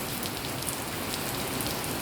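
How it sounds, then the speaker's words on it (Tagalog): Steady, dense rain falls in an even, continuous hiss with close patter on surfaces and no voices. "Itong oras na ngayon ang ulan"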